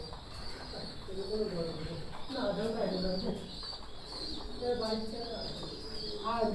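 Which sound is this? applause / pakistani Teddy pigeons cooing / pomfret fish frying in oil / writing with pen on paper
pakistani Teddy pigeons cooing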